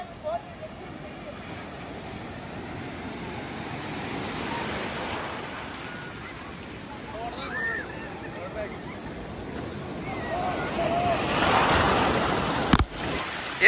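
Surf washing onto a beach, a steady broad wash that swells and recedes with wind buffeting the microphone, building louder toward the end.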